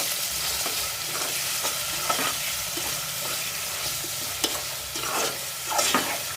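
Tomatoes are stirred into onion and ginger-garlic paste frying in a pan. A steady sizzle runs underneath while a spoon scrapes and clacks against the pan at irregular moments. The sound is close and continuous, with no talking.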